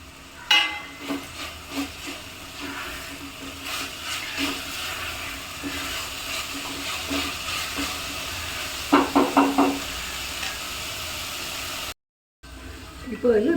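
Carrot, beans, coriander and mint fry in a pan for vegetable biryani while being stirred, with a steady sizzle broken by scraping strokes and a quick burst of clattering taps near the end.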